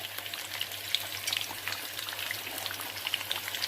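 A thin fish curry seasoned with ground cumin and slit green chillies bubbles in a pot, a dense crackle of popping bubbles and spatters, close and fairly quiet, with no talking.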